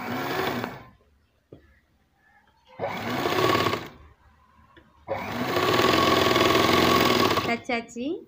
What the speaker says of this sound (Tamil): கழுத்து தைக்கும்போது கொஞ்சம் பொறுமையா அடிங்க